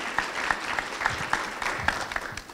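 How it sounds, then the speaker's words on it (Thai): Audience applause at a Thai book launch and academic panel, welcoming an assistant professor of chemistry to the stage; steady, moderately loud clapping from a seated crowd, with faint voices underneath. "ขอเสียงปรบมือต้อนรับผู้ช่วยศาสตราจารย์ดร."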